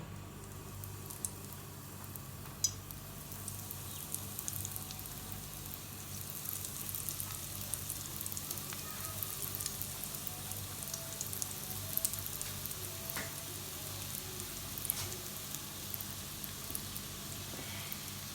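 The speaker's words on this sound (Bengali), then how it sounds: "এবার আমি আলুর চপগুলো ফ্রাই করে নিব" Potato chops fry in hot oil with a soft, steady sizzle and faint crackling pops, quiet and continuous throughout with no talking.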